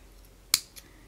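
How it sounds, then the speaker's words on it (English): Scissors snip through beading thread at an earring-making bench: one crisp close snip, then a fainter second click as the blades reopen, against quiet room tone. "Grab my scissors. I'm going to cut"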